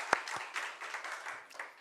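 A short burst of congregation clapping at a Sunday church service, moderately loud and fairly even, beginning with one sharp clap and fading out over about two seconds.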